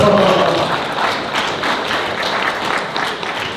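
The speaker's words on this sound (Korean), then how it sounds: "박수 주세요" Steady applause from a seated audience at a workplace communication seminar in Korea, many hands clapping in a dense, fairly loud wash that eases slightly toward the end, with no speech over it.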